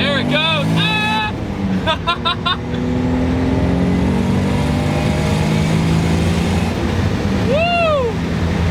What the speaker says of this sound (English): you just hear it spool up with the wastegate and the blow-off valve